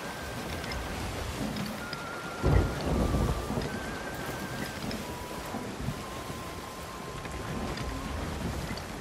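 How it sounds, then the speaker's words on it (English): Thunderstorm at sea in the pirate video game Sea of Thieves, with steady rain and wind hissing around a sailing ship, a loud rumbling thunder roll breaking in near the third second, and faint creaks and tones over the continuous storm noise. "Oh, we're approaching a storm."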